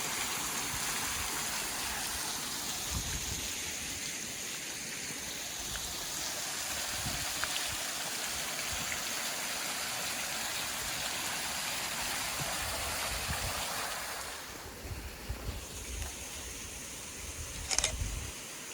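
A mill wheel churns water in a stream on a cold, quiet morning in Cades Cove, a steady broadband rush of splashing and flowing water that holds throughout and eases slightly near the end.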